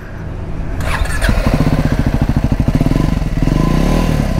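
A Triumph Scrambler 400X single-cylinder motorcycle with a dual exhaust fires up and idles close by, giving a loud, rapid, even thumping pulse with a slight rev toward the end.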